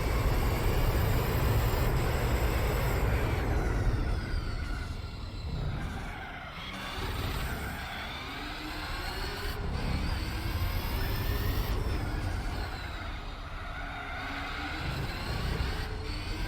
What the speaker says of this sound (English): We're going to go ahead and use up the nitrous here.